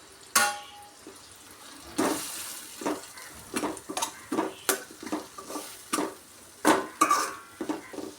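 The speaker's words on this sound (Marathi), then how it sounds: "मसाला तेल सुटेपर्यंत आपण परतून घेऊया" Spice masala of goda masala, Kashmiri chili powder and turmeric being sautéed in oil for a crab curry, heard as a series of distinct scraping stir strokes against the pan over a faint, low sizzle, with no speech.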